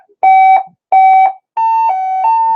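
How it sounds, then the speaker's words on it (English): A fire alarm test sounds inside a building: two short electronic beeping bursts followed by a longer wavering two-tone tone, loud and close with no voices. "let you listen to some delightful alarm noises"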